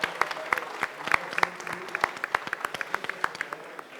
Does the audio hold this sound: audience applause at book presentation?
yes